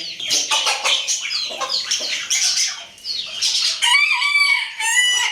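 A rooster crows loudly and repeatedly, with harsh squawking calls from other fowl close by and no talking.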